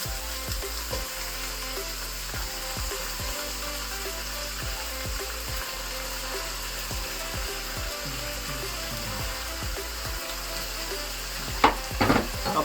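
Chicken sautés with lemongrass and ginger for a Filipino chicken soup, a constant hissing sizzle over a low steady hum, with a few louder stirring clatters near the end and no talking.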